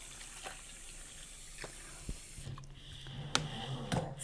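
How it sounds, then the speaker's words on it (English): Warm water runs steadily from a sink faucet with a soft continuous hiss, a few drips and splashes near the end, no voices. "I've already warmed up the water on my faucet, so that's why I'm able to just go straight from the tap."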